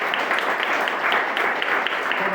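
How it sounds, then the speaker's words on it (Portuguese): A church congregation claps in a dense, even burst of applause during a family worship service, heard close and steady. "Vamos aplaudir Jesus pela vida dele."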